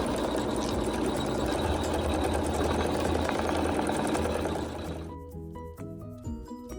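An embroidery sewing machine stitches quilting with a continuous fast mechanical whir for about five seconds, then stops, leaving a few faint clicks and tones; close and loud, no talking.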